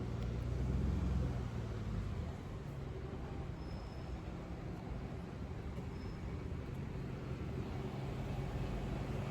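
A London double-decker bus rumbles steadily from inside during a ride, a low engine drone with road noise that swells briefly near the start and then holds even throughout.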